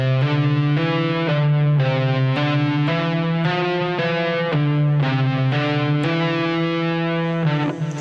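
Distorted electric rock guitar, tapped with both hands on one string, repeats a rapid looping figure of hammered and tapped notes grouped in sevens and sixes, loud, close and continuous without any voices.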